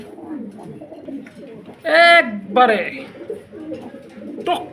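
Mundian pigeons at a pigeon farm give a few loud, near coos in short bursts, heard over someone speaking throughout.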